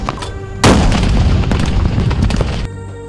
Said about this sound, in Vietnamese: Đồng chí đại trưởng đại bảy tăng cường hỏa lực chế áp vào trận địa lực của địch.